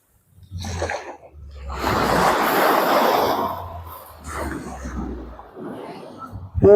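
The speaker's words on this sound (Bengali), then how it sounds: "সুন্দর গর্জন আছে ঢেউ, এই হচ্ছে সমুদ্র তট।" Sea waves roar onto the shore at Bakkhali beach in Bengal, a broad rushing surge that swells and recedes twice and rolls steadily, fairly loud and close, with some breathy noise near the mic.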